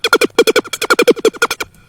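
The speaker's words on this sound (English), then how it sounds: "Again, without white noise, it sounds like this." A laser-style synth bass without any white noise layer, playing a fast run of about fifteen sharp, evenly spaced plucked notes with bright harmonics, then stopping abruptly into near silence.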